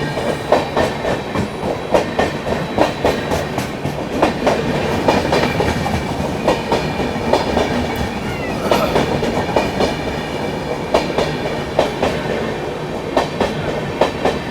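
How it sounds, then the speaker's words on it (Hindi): The Mahabodhi Express runs while overtaking the Bihar Sampark Kranti on Indian Railways, producing a loud, steady rolling rumble with a rhythmic clickety-clack of wheels over rail joints. No one speaks. "दरभंगा नई दिल्ली बिहार संपर्क क्रांति ओवरटेकिंग बाय महाबोधि एक्सप्रेस।"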